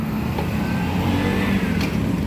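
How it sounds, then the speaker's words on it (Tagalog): Tricycles and other vehicles pass in front of a school, with a continuous loud engine drone and a faint passing whoosh. "nagbibilang lang kayo ng mga tricycle mga sasakyan na dumaraan"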